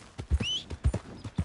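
Horse hooves in Red Dead Redemption 2 clip-clop in a quick, uneven rhythm close by, with a brief whinny partway through.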